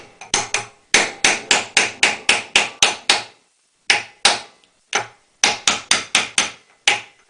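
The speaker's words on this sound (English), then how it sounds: "Hammer it into the form." An 8 mm thick piece of metal with a radiused end is hammered into a hammer form: loud, sharp blows come in fast runs of several strikes each, with short pauses between the runs.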